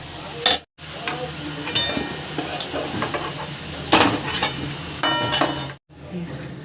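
Fried potatoes lifted out of hot mustard oil with a spatula, a low sizzle under repeated metallic scrapes and clinks against the pan, close and uneven.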